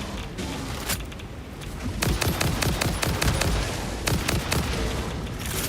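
Rapid bursts of automatic gunfire aimed at enemy creatures in Satisfactory, sharp repeated cracks arriving in clustered volleys with brief pauses between them, loud and close.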